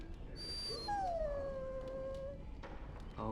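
Dog in the video game Dragon Age: Origins giving a brief high whimpering whine that slides down in pitch, with a short high yip just before it, fairly close and unaccompanied against a quiet background.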